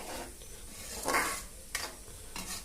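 Fish curry with tamarind water just added simmers and sizzles in a pan, a low steady bubbling hiss with a couple of brief stirring scrapes, close and fairly quiet.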